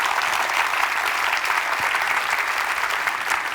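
A congregation at a church service applauds loudly and continuously, many hands clapping in a dense, even wash that holds steady throughout, close and full, with no voices on top.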